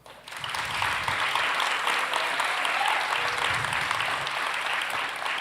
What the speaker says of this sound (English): So take a time to give him a round of applause.